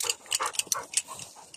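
Hunting dog just rescued by AFAD from a water well, whimpering and yelping in a quick irregular series of short high cries, close and fairly loud, with brief gaps between them.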